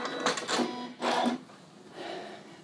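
A home sewing machine back stitching a short cuff sleeve seam on a dress, a close mechanical whirr in two quick bursts followed by a softer, slower run.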